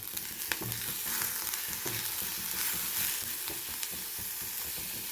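Onions frying in a pan for a coriander and coconut chutney: a dense, steady sizzle with scattered pops and the occasional scrape of stirring, close by.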